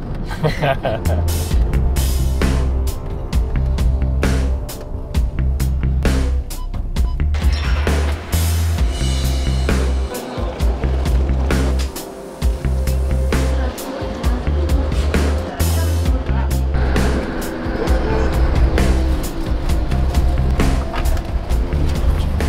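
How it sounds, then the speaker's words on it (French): A car drives continuously with a loud engine drone, shifting revs and occasional tire and road noise heard from inside the cabin, with people talking at times. "Elle est bien cette voiture."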